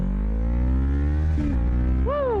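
A motorcycle accelerating hard in traffic, engine note climbing steadily and loudly, a quick dip as it shifts, then rising again with a high whine near the end.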